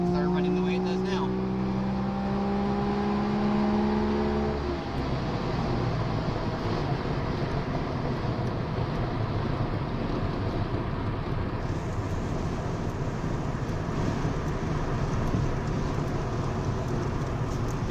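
A Saab 95 engine runs steadily inside the car as the driver downshifts without the clutch using freewheel, the engine note rising then settling into a constant drone with road noise.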